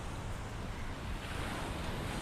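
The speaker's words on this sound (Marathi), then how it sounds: "सो लाट आलेली आहे" Ocean waves wash onto a beach in Kerala, a constant, loud surf hiss mixed with wind buffeting the microphone, with no one speaking.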